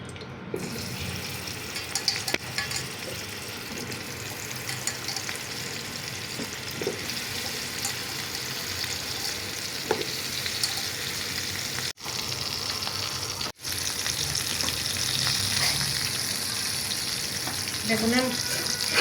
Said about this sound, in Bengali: বেগুনটারে ভাজা নিমু।